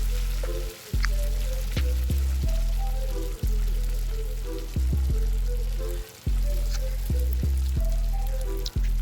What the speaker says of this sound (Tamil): கொஞ்சம் தேவையான அளவு எண்ணெய் விட்டு இப்போ அதில் நான் ஃபிஷ்ஷை வைக்கிறேன்